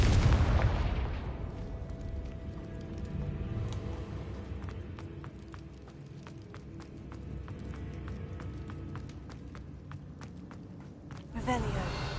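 The Confringo fire spell is cast in the video game Hogwarts Legacy, opening with a loud burst that fades into crackling, clicking game effects and footsteps, with a voice speaking over it.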